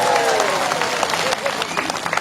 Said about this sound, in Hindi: आप लोग के लिए और एक बार ताली होना